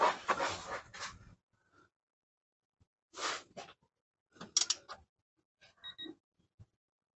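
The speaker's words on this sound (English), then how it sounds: "Now I'm going to tighten up the drain plug. I'll torque it down." Torque wrench tightening an oil drain plug on a Massimo T-Boss 750 ATV, a few quiet close clicks and ratchet ticks in short separated bursts amid near silence.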